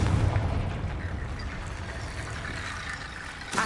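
A Confringo blasting spell explosion in the video game Hogwarts Legacy, a booming burst at the start that rumbles away into a fading tail, with a faint sharp crack near the end.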